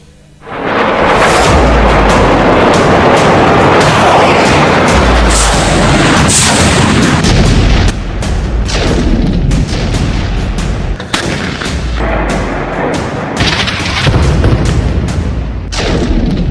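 Heavy artillery fire and shelling along Israel's Lebanon border during the Israeli offensive against Hamas, with loud, dense booms and blasts pounding almost continuously for the whole stretch, some impacts sharp and close, others rumbling.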